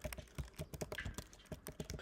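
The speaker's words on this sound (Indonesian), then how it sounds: "Kita ketik aja labstar" Rapid, close keystrokes on a computer keyboard rattle along in an uneven rhythm, dozens of distinct clicks in quick succession with no talking.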